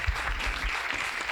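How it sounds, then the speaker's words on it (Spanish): A small audience at a psychoanalysis talk applauds in a steady, fairly close patter of clapping hands with light low thumps underneath. "a todos ustedes hacemos un aplauso"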